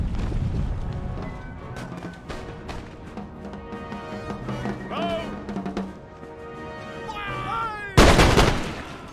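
Massed line-infantry muskets fire in Empire: Total War, crackling volleys rolling through a busy battle soundscape, ending in one loud, sharp burst.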